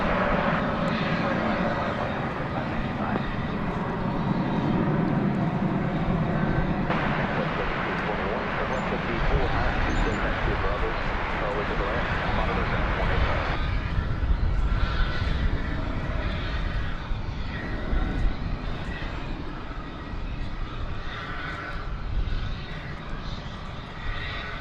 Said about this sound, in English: I hear something taking off.